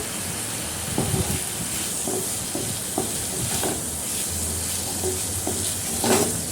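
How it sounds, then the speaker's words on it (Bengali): Fried, washed lentils stirred in a hot pan for khichuri, a soft continuous sizzle with repeated scraping and tapping of a spoon against the pan, no talk. "ওই ডালটা যে আমি ভেজে রেখেছিলাম ধুয়ে রেখেছি সেটাকে আমি দিয়ে দিচ্ছি দিয়ে একটু নাড়াচাড়া করে নেব"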